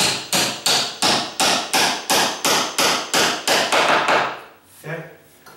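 A hammer taps on a sagging door's hinge in a steady run of about a dozen sharp, evenly spaced metallic blows, loud and close, then a short pause and one softer knock.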